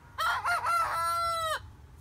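A Thüringer rooster crows once, loud and close, a long rising and held cock-a-doodle-doo lasting over a second before cutting off into quiet background.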